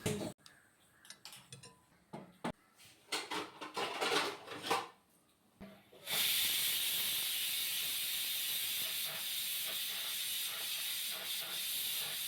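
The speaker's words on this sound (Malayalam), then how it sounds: "ഇപ്പം ഇത് 3 വിസിലായിട്ടുണ്ട്" A pressure cooker with green pea curry vents steam: scattered kitchen clicks and taps first, then a loud, sustained hissing whistle bursts in halfway and holds steadily to the end, close by.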